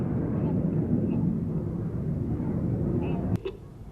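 The Red Arrows jets fly a display at Sywell Air Show. A steady distant roar of jet engines fills the air under a commentator's voice, and a brief sharp crack comes near the end.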